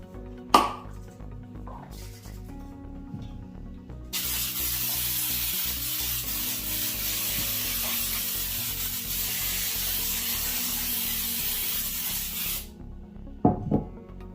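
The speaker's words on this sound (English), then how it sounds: "I'm just gonna spray my pan" Cooking spray hissing steadily into a bundt cake pan for about eight seconds, close and loud, with a few light clinks and handling knocks before and after.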